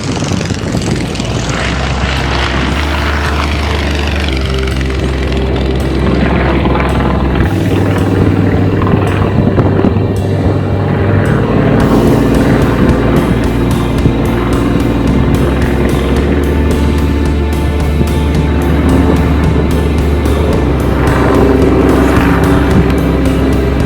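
A 1972 Yak-50 aerobatic radial-engine airplane at an air show, its propeller engine roaring loud and steady for the whole stretch with shifting pitch and power as it manoeuvres, no talk.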